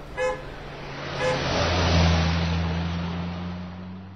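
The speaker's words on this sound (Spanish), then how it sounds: "al son del claxon del coche de atrás" A radio-drama car horn honks from the car behind, two short blasts close together early on, over a low, steady engine and traffic hum.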